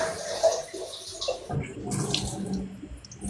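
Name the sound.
water being poured over someone's head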